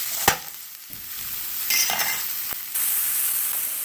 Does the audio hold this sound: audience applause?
no